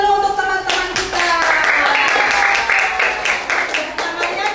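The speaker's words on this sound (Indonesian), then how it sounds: "Baik, tepuk tangan dulu untuk teman-teman kita." Classmates in a classroom clap for their peers, a dense burst of handclaps sustained throughout, close and fairly loud, with voices talking over it.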